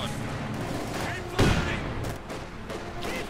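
Gunfire from a Company of Heroes 2 multiplayer match with Soviet conscripts and German grenadiers, a dense rattle of small-arms shots and a brief louder burst, steady throughout under a busy battle din.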